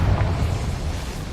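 The Confringo fire-blast spell in the Hogwarts Legacy video game goes off as one deep, rumbling explosion. The boom is heavy and low and lingers briefly before fading.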